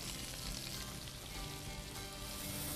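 Shallots and garlic sizzle in a hot pan as a sauce starts in the fond of seared fish. The frying is a steady, dense, close crackle the whole way through with no talking, though the level is quite low.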